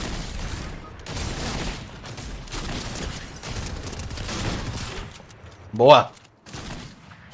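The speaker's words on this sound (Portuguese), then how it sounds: "estão atirando ainda" A short, sharp burst of gunfire from a shooting video game cracks out near the end, after someone talks casually in Portuguese over the game sounds.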